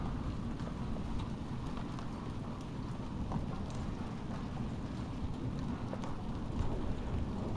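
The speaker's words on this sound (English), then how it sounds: "And that flashing, that's the lightning going on, and the thunder." A thunderstorm pours heavy, fat rain in a steady wash, with low thunder rumbling beneath it and no voices.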